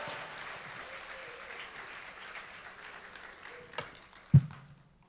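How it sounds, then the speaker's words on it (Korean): Church congregation clapping to welcome a pastor arriving at a Korean revival meeting, a soft sustained wash of applause through the hall, ending in one louder thump near the close. "우리 박수 치며 할렐루야로 우리 환영하겠습니다"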